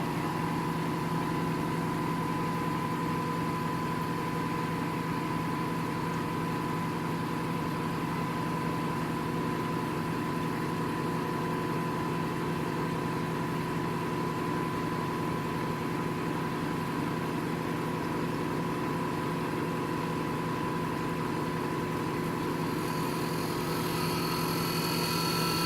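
An Allied High Tech 4000 sectioning machine runs with a steady, even mechanical hum and whine, a constant drone holding at one level for the whole stretch, with a slight brighter hiss creeping in near the end.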